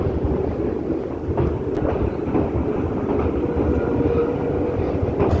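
A train crosses the new Pamban sea bridge, heard from on board as a steady rumbling roll with faint rhythmic clacks and wind noise, with no talk.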